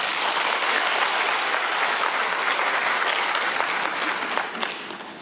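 A roomful of citizens at a public debate on a coal power plant in Pocheon claps steadily, a dense burst of applause that holds and then tapers slightly at the end.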